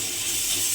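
Garlic paste fries in hot oil in a pan, a brief, close, steady sizzle with no voices.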